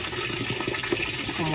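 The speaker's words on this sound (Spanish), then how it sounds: "un chorro de agua caliente y un chorro de agua helada" Hot and cold water jets gush into a Whirlpool washing machine after a fault in the cold-water valve coil, a loud, continuous rushing splash close by with a voice faintly underneath.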